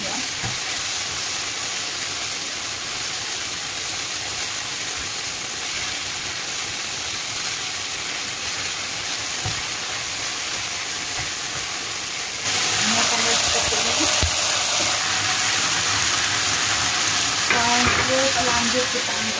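Beef and onion stir-fry in a pan for a bitter melon dish, giving a steady loud sizzle with scraping stirs that turns brighter and hissier partway through.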